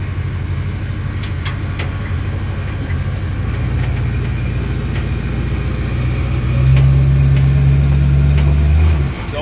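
A Ford Mustang project car with no interior runs as it is driven, its engine a steady low rumble with a rattly cabin that swells louder and heavier near the end, no talking.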